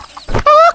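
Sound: chicken clucking

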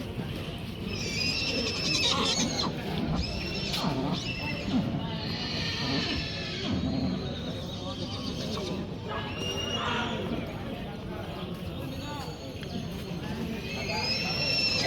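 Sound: horses neighing at a horse market

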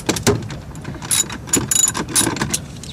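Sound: ratchet loosening 8mm bolts on a Mazdaspeed shifter

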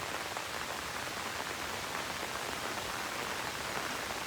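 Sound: rain falling during the monsoon season

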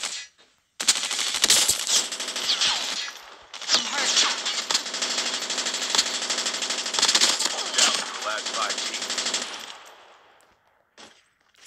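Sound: gunfire in Call of Duty Mobile video game

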